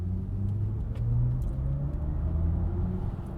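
A 2022 BMW i4 electric sedan driving, its low artificial drive sound humming steadily under road rumble from inside the cabin, with no talking.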